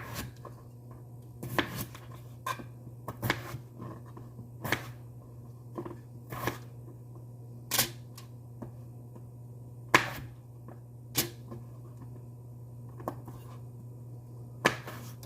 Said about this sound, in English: I'm going to cut up these potatoes and make some homemade French fries